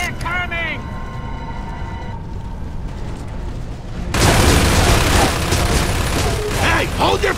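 Dense, sustained gunfire from Gears of War 3 erupts midway, loud and continuous after a quieter stretch, with voices talking over the action.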